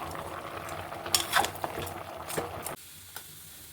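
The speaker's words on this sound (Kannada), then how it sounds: "ಸ್ವಲ್ಪ ಅರಿಶಿನ. ಇದೆಲ್ಲ ಸ್ವಲ್ಪ ಫ್ರೈ ಆಗಲಿ" Spices with turmeric fry softly in a pan as a spoon scrapes and stirs; the quiet sizzle drops away near the end.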